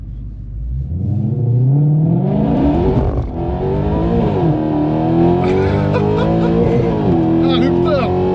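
A Mercedes C63 AMG V8 screaming on a race circuit, revs climbing in a rising wail and holding high near the rev limiter, loud and close from inside the cabin, with excited voices talking over it.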